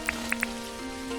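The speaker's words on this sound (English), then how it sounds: "since it's raining" Rain in the farming game Dinkum falls steadily beneath sustained background music tones, with a few crisp drip-like ticks near the start.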